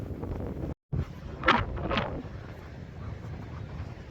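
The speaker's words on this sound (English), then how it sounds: "It's a bit windy here today." Wind blowing on the Cornwall coast near old copper and lead mine workings, a steady low rumble with a few brief louder gusts and a short dropout, no talk.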